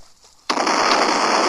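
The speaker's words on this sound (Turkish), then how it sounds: "Arkadaşlar havuzun içinde bomba patlatacağım." A bomb or firecracker goes off in a swimming pool: after a quiet moment comes a sudden loud burst followed by a sustained, broadband rushing spray of water that continues to the end.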